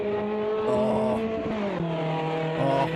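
Mazda MX-5 race cars in Automobilista 2 scream along in close company, engines holding high revs with quick pitch shifts and a brief squeal of tyres, loud and continuous with no talk.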